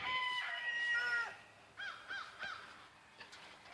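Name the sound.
rooster crowing, barred rock mix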